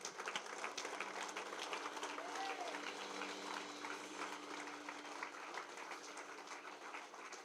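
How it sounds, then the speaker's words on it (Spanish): A church congregation applauds loudly and continuously, a dense wash of clapping from many hands that stays sustained and gradually eases, with a faint sustained musical tone beneath. "Dele un aplauso fuerte al Señor."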